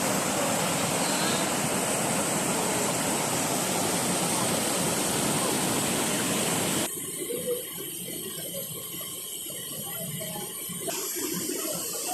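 Kawa Falls at Tausuvan, Magpet in North Cotabato roars as a dense, constant wash of falling water, loud and close throughout, turning slightly thinner and more distant partway through.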